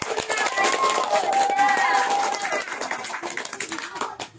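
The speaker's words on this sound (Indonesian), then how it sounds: "Tepuk tangan" An audience in a school classroom claps for a group's craft presentation, with a dense patter of hands that thins out toward the end while voices carry over it.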